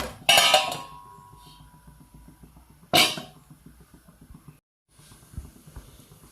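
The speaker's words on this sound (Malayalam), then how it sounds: "ഇനി നമുക്കിത് മൂടി വെച്ച് വേവിക്കാം." A cooking pot for Kerala-style kootukari being covered with its lid: two loud metallic clanks of lid on pot about two and a half seconds apart, with faint bubbling and hiss in between.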